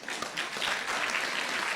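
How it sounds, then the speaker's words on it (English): A crowd at a campus political debate breaks into applause, a dense burst of many hands clapping at moderate loudness that holds steady to the end. "we can cut the applause for now until we finish the conversation"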